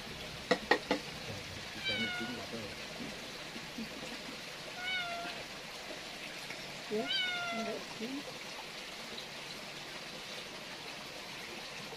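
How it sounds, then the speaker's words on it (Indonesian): A cat is hand-fed indoors, letting out several short meows over a steady trickle of background noise while people talk nearby. "Oh disuapin kucingnya."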